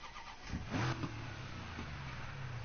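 A supercharged 1969 Dodge Hemi V8 revs in the racing game NFS Heat: one sharp throttle blip climbs and falls back, then a steady rumbling idle carries on alone.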